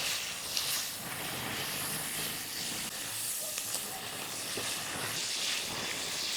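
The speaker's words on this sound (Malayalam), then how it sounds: "ഇതെല്ലാം കൂടി ഇട്ടൊന്ന് ഇളക്കി കൊടുക്കും." Onions and salt sizzling in a pan for a sardine curry, a close, continuous hiss and crackle with faint scraping as they are stirred.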